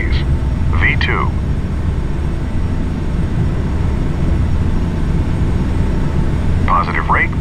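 Airliner taking off in Flight Simulator X: a steady, loud low engine roar fills the whole stretch, with brief voice bursts near the start and end.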